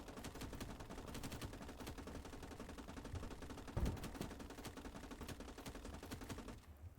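Rapid gunfire from the WWII strategy game Gates of Hell: Ostfront, with dense machine-gun bursts and rifle shots crackling steadily throughout, a heavier thump near the middle, and the firing tapering off at the very end.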